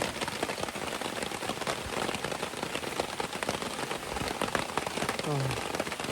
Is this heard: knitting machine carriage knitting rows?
no